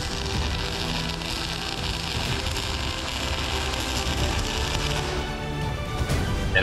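Self-tapping screws being driven into the sheet-metal side of a squaredrop trailer, a steady whirring, ratcheting drive rattle that runs continuously and close up, rising to a louder burst at the end.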